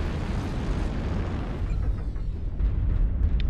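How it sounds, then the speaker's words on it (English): Heavy booming blasts from airstrikes pound the battlefield in MechWarrior Online, a continuous low rumble of explosions that swells louder toward the end, with no talking. "they're just airstriking the heck out of us at this point"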